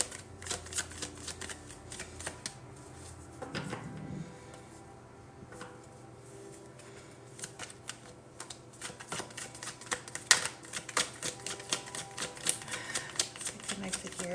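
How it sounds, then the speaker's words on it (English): Tarot cards are shuffled in soft, rapid riffling bursts, quiet and close, continuing throughout with scattered clicks. "I'm going to just be shuffling here"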